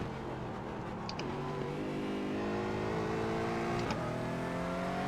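A racing car in iRacing at Rockingham drones loudly at high revs, its engine pitch dropping and climbing again around two downshifts, steady and close with no voices.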